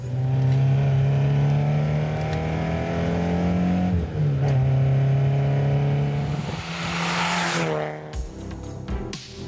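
A Peugeot 205 GTI hot hatch revs loud and close, its engine note rising and falling in steady sweeps, with a sharper, harsher burst of revving near the end.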